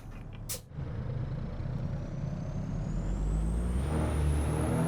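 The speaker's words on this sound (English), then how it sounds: "Engine doesn't sound super great compared to the other trucks I've driven" A Kenworth W990 logging truck engine drones in American Truck Simulator, opening with a short air-brake hiss, then a steady low rumble that slowly swells as the truck pulls away.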